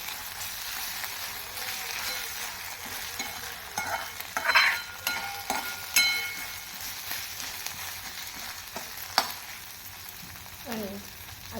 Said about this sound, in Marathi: आता आलं लसूण पेस्ट घालून आपण पुन्हा एकदा व्यवस्थित तेलावर परतून घेऊया